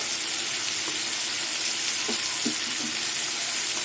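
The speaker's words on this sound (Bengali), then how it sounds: "আর একটু ভেজে নেবো ভাজা হয়ে গেছে" Whole garlic and spices fry in oil for a prawn and taro greens curry, giving a loud, steady close-up sizzle with a few faint stirring clicks underneath.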